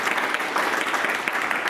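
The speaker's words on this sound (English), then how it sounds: "give her a warm applause." Warm applause from a forum audience, dense steady clapping that fills the whole short moment, close and even, with no break.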